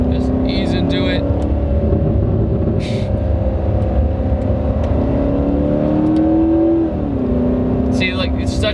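A 2019 Corvette ZR1 engine drones steadily as the car accelerates and shifts gears, its pitch rising then dipping at a shift, loud and close with a voice occasionally audible.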